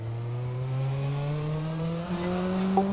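A race car in a racing game accelerates out of the pit exit, engine note climbing smoothly in pitch, loud and close, with a brief tyre chirp near the end and no talking.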